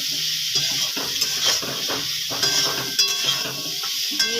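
Ground coriander and cumin being stirred as they fry in a pan for a fish curry with drumsticks and potato, crackling sizzle broken by repeated scraping stirs and light utensil knocks.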